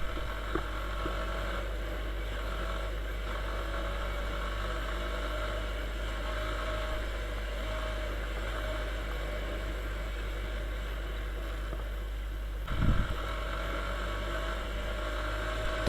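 A steady, droning engine rumble from a Viper 150 motorcycle, running low on fuel, runs without letup, as if heard while riding, with a brief louder thump near the end.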